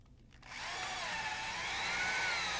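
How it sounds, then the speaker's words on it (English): A power drill runs continuously as it bores bolt holes through a helicopter engine mount clevis, guided by bushings and airframe tubes. It starts after a brief quiet moment, then holds a loud, steady whine that rises slightly in pitch. "Drill the bolt holes through the clevis using the bushings and the airframe tubes as a guide"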